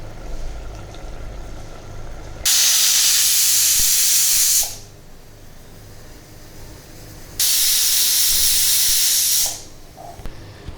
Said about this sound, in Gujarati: હવે આપણે કુકરને બંધ કરીને 2 વિસલ વગાડશું